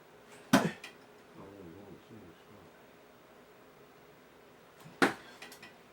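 A spin-thrown painted throwing knife hits a target twice, each strike a sharp, close thud about four seconds apart. Quiet background noise fills the gap between the two hits.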